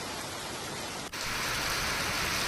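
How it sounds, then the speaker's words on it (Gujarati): Steady rain falling during a monsoon spell in Gujarat, a dense continuous hiss of drops on surfaces, close and even, with a brief dip partway through and no voices. "વરસાદ વરસાદી માહોલ જામ્યો હતો"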